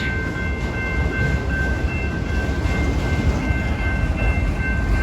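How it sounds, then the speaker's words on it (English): A long freight train rumbles steadily past close by in southern Indiana, a continuous heavy roll with faint metallic squeals and clatter throughout, no voices. "Tell you what, this was a long train."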